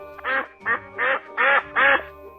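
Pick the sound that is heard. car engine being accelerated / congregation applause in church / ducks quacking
ducks quacking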